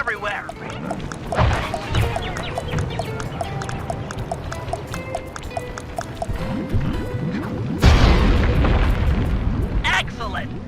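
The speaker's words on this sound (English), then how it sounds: "Place the dynamite when you get near the anchor, or kaboom!" A stick of dynamite blows up a balloon anchor in the video game Sly 3: a heavy, roaring blast bursts out near the end, after a stretch of busy game sounds and talking voices.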